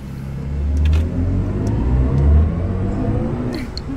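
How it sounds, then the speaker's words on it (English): An i4 M50 accelerates hard in sport mode, giving a loud, deep road rumble with a rising whine and no talking. "So we just wrapped up test driving the i4 M50. Pretty cool car, very smooth. I did like the acceleration."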